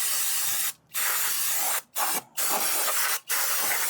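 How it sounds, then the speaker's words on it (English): A can of brake cleaner sprays loudly and close onto the rear brake parts of a 2014–2016 Kia Forte, giving four long hissing bursts separated by short gaps. "Just grab your brake cleaner"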